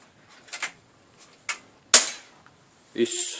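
A single sharp, loud bang like a firecracker going off, preceded by a few faint pops and followed by a burst of hissing noise.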